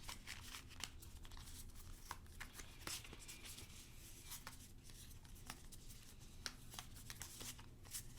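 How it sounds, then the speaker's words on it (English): Tarot cards being shuffled by hand, a soft, close rustling and riffling with light flicks and taps, continuous and quiet, with no talking over it. "So let's start our shuffle."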